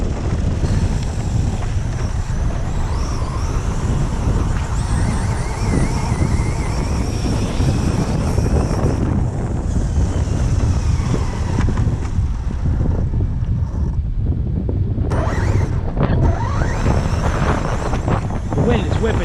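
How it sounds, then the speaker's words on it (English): Strong wind buffets the microphone outdoors, a loud continuous low roar and rumble with gusty surges that briefly ease near the end, with a voice faintly present beneath it. "The wind is whipping so bad"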